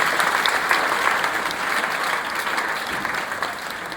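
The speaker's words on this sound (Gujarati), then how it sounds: "એનો માટે તાળી તો પડવી જોઈએ ભાઈ." Sustained audience applause from a crowd at a devotional, motivational gathering, a steady dense clatter of clapping that holds at an even level throughout with no voices over it.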